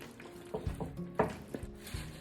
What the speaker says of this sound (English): Add a little more mayo, guys. You want it nice and creamy. I'll stir it up really good